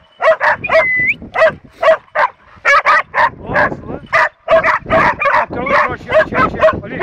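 Hunting dogs bark and yelp excitedly during a wild boar hunt, a rapid, nearly continuous run of loud close barks with whines mixed in and voices shouting among them.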